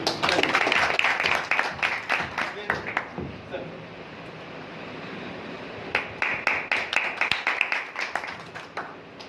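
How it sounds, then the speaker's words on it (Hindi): A room of people at a bank branch's monthly meeting breaks into brisk applause in two rounds, sharp overlapping claps fairly close by, with voices talking between the bursts. "इनके लिए एक बार और ताली।"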